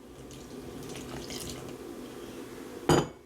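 Water poured into cake batter mixed by hand, with eggs already added: a short, loud splash near the end of a quiet kitchen stretch.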